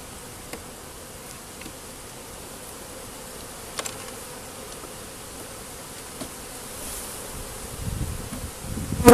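Honeybees hum around an open hive during an inspection with larvae developing inside, a steady close buzz with brief louder passes as individual bees fly near, growing busier toward the end.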